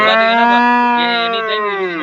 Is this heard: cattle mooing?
yes